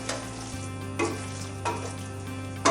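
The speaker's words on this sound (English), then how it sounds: "let's stir this around just another minute or so." Potatoes and eggs fry in a pan with a steady sizzle while a utensil stirs and scrapes them, giving several short scraping bursts over the constant crackle.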